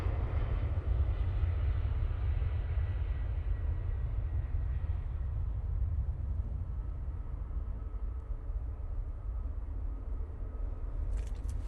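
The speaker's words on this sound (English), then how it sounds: "There's Leap 1B's absolutely wailing this morning." A Ryanair Boeing 737 MAX with CFM LEAP-1B engines passes at Manchester Airport, a steady low roar with a broad rumble that slowly fades and thins over the clip.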